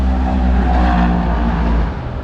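COPO Camaro drag car pulling into the burnout box, its engine a loud, close, rumbling idle with deep harmonic drone and slight revving, steady before easing off near the end.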